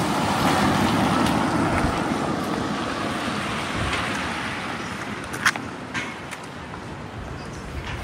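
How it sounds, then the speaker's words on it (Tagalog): Steady wind rushing and buffeting outdoors, a broad continuous roar with a few faint knocks near the end. "Mahangin ngayon, mahangin."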